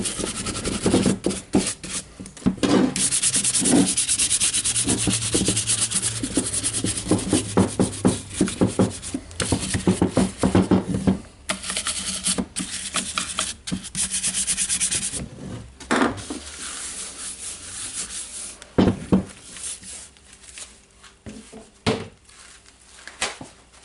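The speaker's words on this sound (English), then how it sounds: "Now I'll brush all the tool." A brush scrubbing dust off a Makita DHR243 rotary hammer, heard up close as steady, bristly rubbing strokes in quick rhythmic bursts with brief pauses.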